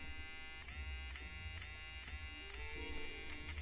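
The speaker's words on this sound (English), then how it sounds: "I can use the electric eraser and just kind of" An electric eraser buzzes steadily against a gouache painting, a continuous close motorized whine with slight pitch wavers as it works the surface.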